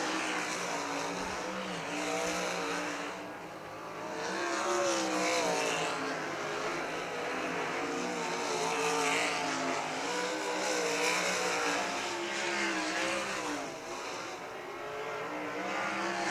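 Sprint race cars at Millstream Speedway roar continuously on the track, a loud, steady engine drone with rising and falling pitch as the field runs down the straightaway, no talk over it.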